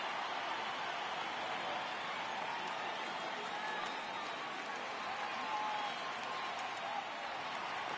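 Stadium crowd in MLB The Show 18, a Giants vs Brewers game with over 39,000 fans on their feet, gives off a steady, dense roar of cheering that holds at an even level throughout.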